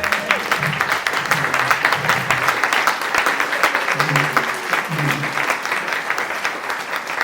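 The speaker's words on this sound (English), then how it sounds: "stand for a little applause" Audience applause at a candidates forum, with steady, dense clapping across the whole stretch and a few voices murmuring faintly underneath.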